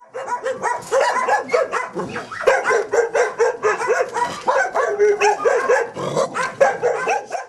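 Many dogs bark and yip at once at an animal shelter holding about 70 dogs, a loud, continuous chorus of overlapping barks from several animals close by, with no talking.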